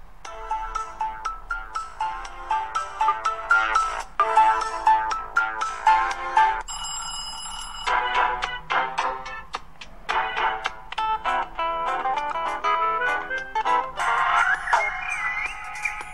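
Tinny electronic ringtone melodies played through the small loudspeaker of a cheap IPRO Wave 4.0 smartphone, several different tunes in turn, heard close and alone at moderate loudness.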